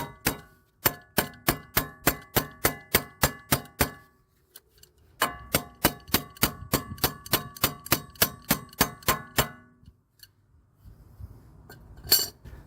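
Rapid series of metallic taps on a Fiat 500 shock absorber part, two quick bursts of about a dozen sharp clangs each with a short pause between, then a single louder clank near the end.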